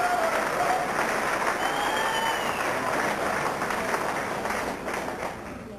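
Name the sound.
banquet audience applause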